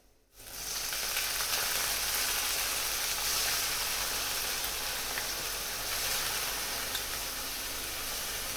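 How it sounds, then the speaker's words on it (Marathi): A phodni tempering hits hot oil for a spring onion greens dish, setting off a sudden loud, steady sizzle up close that carries on without a break. "आता मी फोडणी देते बघा"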